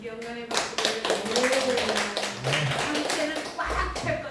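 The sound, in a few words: congregation clapping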